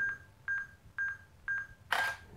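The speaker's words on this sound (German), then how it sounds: "Jetzt schieße ich mal ein Foto." A digital camera shooting a photo on self-timer sounds four evenly spaced short electronic beeps, then a louder shutter click with a burst of mechanism noise, close and clear with no talking.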